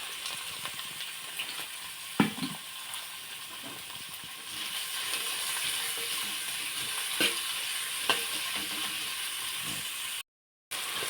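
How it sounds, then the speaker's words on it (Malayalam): Sliced medium onions sautéing in hot oil for a country-style chicken curry, a steady close sizzle throughout with a few sharp scrapes and clinks of stirring, no talking. "അത് നമുക്ക് ചൂടായ എണ്ണയിലേക്ക് ഇടാം അതിട്ട് നന്നായിട്ട് വഴറ്റുക"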